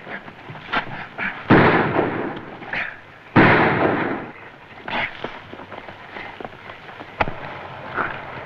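Gunshots in a Mexican black-and-white feature film fire as several sharp, loud cracks spaced a few seconds apart, each one followed by a short echoing tail, with no talking in between.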